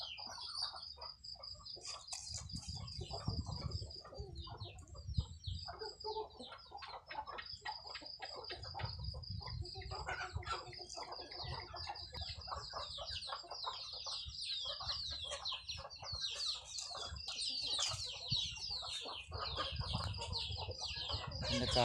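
Chickens cluck and a rooster calls repeatedly outdoors, with birds chirping throughout and faint low rumbling underneath.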